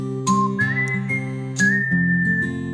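A person whistles short melodic phrases, close and clear, to control small app-linked solenoid rhythm bots. Faint rhythmic clicking and tones sound underneath, with no talking.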